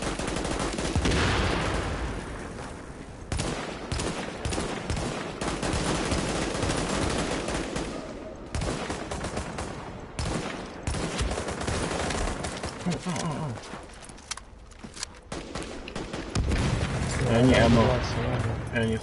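Gunfire rattles almost without pause through a firefight in The Division, with rapid automatic bursts and heavy blasts layered over a thick, loud combat roar.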